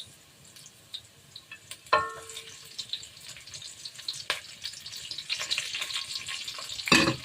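Onion hits a hot frying pan with a sharp sizzle, then crackles and spits steadily close by, building into a louder burst near the end, cooked as part of pork adobong sitaw.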